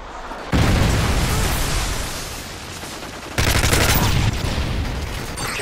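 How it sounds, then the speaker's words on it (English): Predator missile strike and gunfire in Modern Warfare 3 online multiplayer, a loud blast followed by rolling booms and rattling fire that fades slightly, then a second sharp blast with more sustained combat noise, and no talk. "Friendly predator missile inbound."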